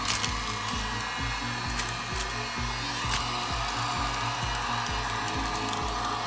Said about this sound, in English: turn my heat gun on low, let it warm up for a minute